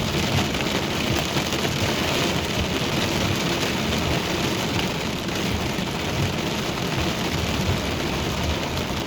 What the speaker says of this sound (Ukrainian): Оце дощик.